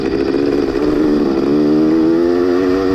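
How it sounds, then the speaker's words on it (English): Old vintage motorcycles at full throttle in a cross-country race, a loud, close, continuous engine roar climbing in pitch as the rider shifts up through the gears. "it is balls to the wall, third, fourth, fifth gear, just letting her crank out through here and letting them old vintage bikes breathe"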